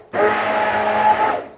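A kitchen blender whirs at full speed for about a second and a half while mixing a quick breakfast, with a loud, steady motor that starts abruptly and cuts off.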